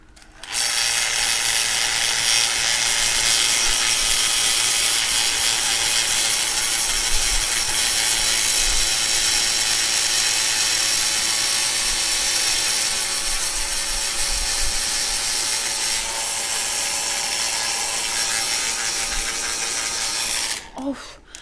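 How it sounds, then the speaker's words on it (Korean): Broken hair dryer running continuously with a harsh, rattling whir and grinding mechanical buzz, loud and steady, cutting off at the end. "드라이기 고장나가지고 소리도 좀 이상하죠?"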